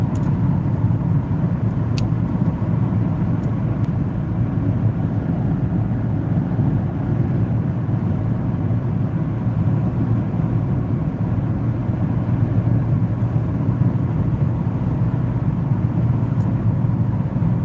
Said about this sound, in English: we are driving towards Turku